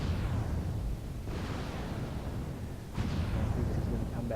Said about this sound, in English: I get a little bit of a chain fire effect with the two different timing, how the missiles go